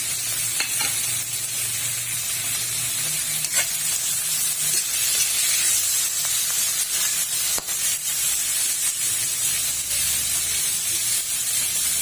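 Ground meat fries in a hot pan for ginisang togue, a steady loud hiss and crackle with occasional scrapes of stirring, close up and without talk.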